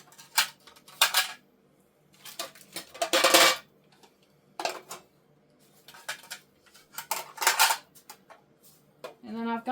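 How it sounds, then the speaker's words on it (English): Metal baking pans clatter and clank in bursts as they are handled and stacked, with sharp metallic hits and rattles separated by short pauses, close and fairly loud. "These are the pans that I have collected over the years."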